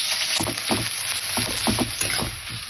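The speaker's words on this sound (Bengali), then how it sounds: "পেঁয়াজ ভাজা চলছে" Onions fry in a pan with a steady, loud sizzle and hiss, broken by a few soft scraping stirs.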